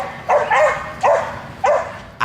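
A bull terrier barks three times in short, loud, close bursts with brief pauses between them, alone with no talk.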